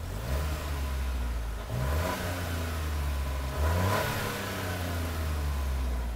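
A 2021 Chevy Trailblazer with a 1.3-liter engine accelerates in a series of rising revs, with the engine note dropping and climbing again at each of two shifts, heard fairly clearly from nearby with no talking.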